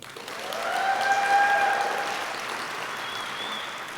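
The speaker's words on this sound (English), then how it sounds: "I know we've already done a lot of clapping" An audience at a city's State of the City address applauds council members, a broad, even wash of clapping that swells and then eases off slightly, with faint tonal sounds from the hall.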